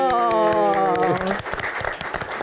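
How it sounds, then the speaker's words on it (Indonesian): Studio audience applause on an Indonesian Q&A talk show, starting under a sustained musical or sung tone that fades out, then continuing as dense, mid-level clapping to the end. "Tepuk tangan dong"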